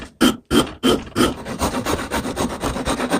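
A rasp hogs wood off a hammer handle in a few heavy, close strokes, then settles into quicker, lighter back-and-forth rasping at a steady rhythm.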